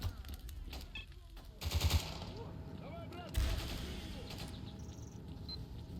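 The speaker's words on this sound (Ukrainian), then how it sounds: "Але блін, вони всі стріляються." Gunfire in the S.T.A.L.K.E.R. video game, a distant exchange of shots with two louder, sharper bursts standing out against a murmuring background ambience.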